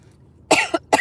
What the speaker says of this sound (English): I got a cough out of nowhere.